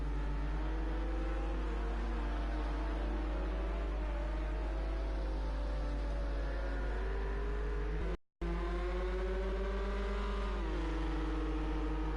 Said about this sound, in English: Two Ford GTEs are very close to each other.